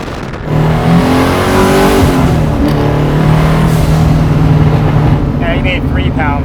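A twin-turbo 1969 Camaro pro touring muscle car engine, over 1500 hp, revs hard and snarls up through the gears, loud and close, with a deep throaty rumble holding steady afterward.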